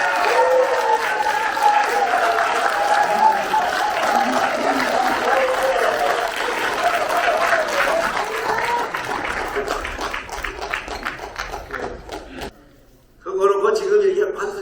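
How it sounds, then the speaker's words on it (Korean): An audience at a creative pansori performance applauds a teacher in sustained, even clapping, while a voice talks over it before a short pause and more speech. "선생님께 박수 한번"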